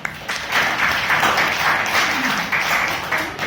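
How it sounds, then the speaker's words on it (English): A Toastmasters club audience claps after a speech, a short burst of moderate, steady applause rising and holding briefly at middle distance. "So big round of applause for that."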